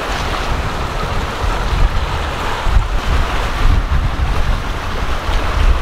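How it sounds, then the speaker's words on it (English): A squall strikes a sailboat crossing the Caribbean Sea. Loud wind buffets the microphone, and waves surge and wash around the hull in a continuous roar. "Big squall out here."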